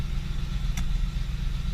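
A grain truck engine idling after a slow start, a steady low rumble close by with one brief faint click, no talking.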